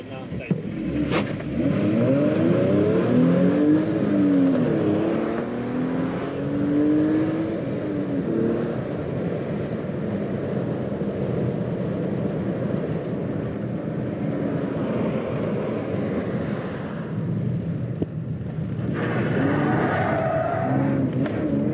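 A combustion car with a 3.8-litre V6 accelerates hard, engine roaring loud and close as revs climb and drop through gear shifts, with people talking inside the cabin.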